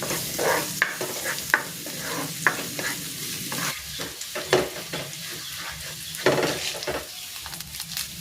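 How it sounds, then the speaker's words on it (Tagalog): Garlic sautéing in hot cooking oil for a chicken sotanghon soup, a steady sizzle with repeated scrapes and stirring knocks of a utensil against the pan, close and fairly loud with no talk. "Ayan, nagpainit na ako ng mantika. Magigisa na ako ng bawang."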